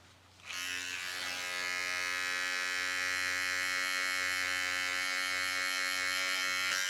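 Electric hair clippers fitted with a single guard and the lever open start with a click, then run at a steady, close, loud buzz with no talk during a self-administered low taper haircut.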